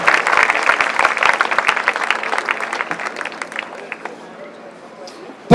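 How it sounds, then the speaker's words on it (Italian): Audience applauding an honoree at an outdoor town-square celebration for an Olympic champion, a dense round of clapping that thins out and fades toward the end, with voices mixed in. "un altro applauso per Franco Testa"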